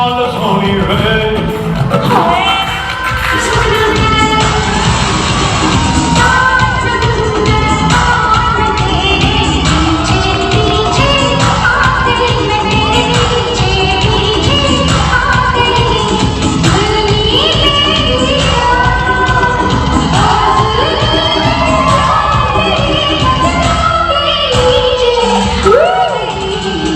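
A large crowd cheers, whoops and shouts loudly, a dense, sustained roar of voices that holds steady for the whole stretch.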